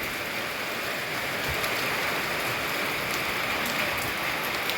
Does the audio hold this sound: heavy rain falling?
yes